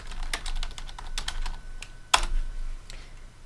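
Someone types on a computer keyboard to enter a search term online, a quick run of close, crisp key clicks with one sharper tap near the end, with no voices.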